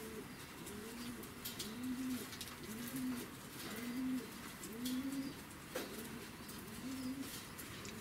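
Fighting pigeons, blue rock and Yerevan breeds, in a loft in Tbilisi, Georgia, coo in a repeated rhythmic series of soft, low, rolling calls over steady outdoor background noise.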